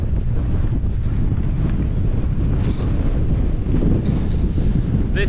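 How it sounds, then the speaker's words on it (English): Relentless strong wind buffeting the microphone on a Lake District hillside near Stickle Tarn, a loud continuous low roar with constant gusty rumble and no talking. "This wind is relentless"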